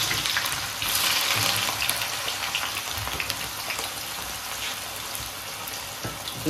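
Finely chopped onions fry in hot mustard oil, giving a dense, even crackling sizzle close by that holds steady throughout with no voices.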